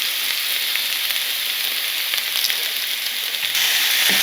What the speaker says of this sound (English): we're going to stir them around. Cook them up for about 4 minutes until they're getting nice and brown